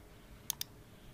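Two quick, light mouse clicks on a Mac computer, close together and faint against a quiet room.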